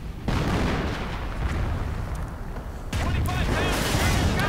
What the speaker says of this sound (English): not perhaps the best timing since the entire place is getting bombarded